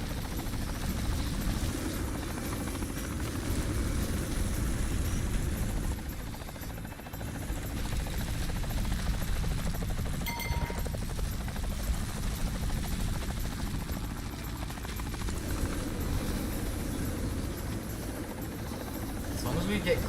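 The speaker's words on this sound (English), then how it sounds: "The helicopter just spun out of control" A video-game helicopter drones with a steady low rotor rumble and buzz that runs throughout, dipping briefly midway, with a person talking over it in places.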